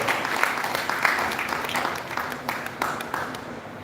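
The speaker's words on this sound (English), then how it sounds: "Let's applaud him well." A crowd claps in steady applause at a Nigerian startup event, a dense patter of hands that swells briefly then tapers off slightly, with a voice faintly underneath.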